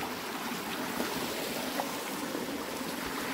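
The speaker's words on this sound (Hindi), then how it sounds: "और ये एक छोटा सा झरना, ये ऊपर से आ रहा है," A small waterfall at Koshmal waterfall in Dang, India, spills down from above with a steady, even rush of water that fills the whole short stretch at moderate loudness, with no voices.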